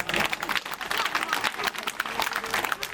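Applause from the audience at a school farewell ceremony for a teacher, a dense, loud patter of many hands clapping continuously, with some crowd noise mixed in.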